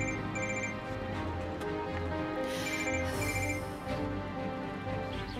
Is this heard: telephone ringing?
yes